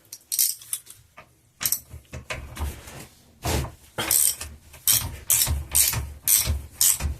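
Small bolts being loosened by hand from a Ford Powershift gearbox during a strip-down, heard as a series of close, crisp ratcheting clicks in short bursts separated by pauses.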